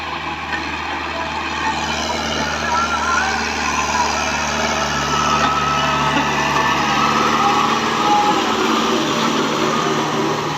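A Fiat 640 tractor engine labours under load in a wet, muddy field, a steady loud drone with a constant high whine and no letup across the whole stretch.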